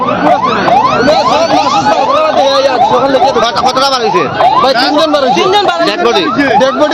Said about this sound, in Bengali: আমরা দেখতে পাচ্ছি ফায়ার সার্ভিসের গাড়ি এই মাত্র এসে পৌঁছে গেছে